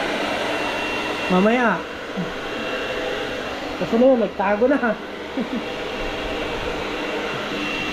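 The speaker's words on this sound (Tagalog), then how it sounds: "Hair dryer." A hair dryer blows steadily throughout while a shih tzu is dried at home, a constant airy roar under brief bursts of a man's speech.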